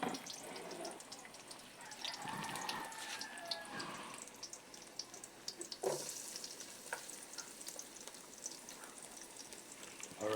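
Garlic sizzling and frying in a pan while being stirred for sautéed mushrooms, a soft steady crackle close by with occasional scraping and clatter.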